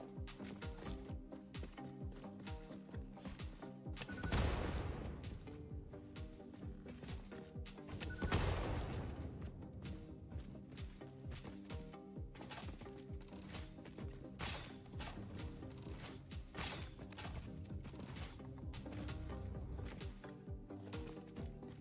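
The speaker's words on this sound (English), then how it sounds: "One explosion plus 1 rebar gun shot equals dead big spitter." In the video game Satisfactory, an explosion and a rebar gun shot bring down a big spitter creature. Two heavy booming bursts land several seconds apart over constant game music and mechanical background noise.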